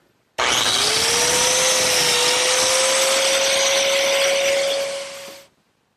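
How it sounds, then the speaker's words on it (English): A plate joiner cuts a biscuit slot into a wood board for an outdoor cupboard: a single loud, close motor burst with rising whine, held steady for about five seconds, then spinning down. "line it up with the center mark, and cut the biscuit slot"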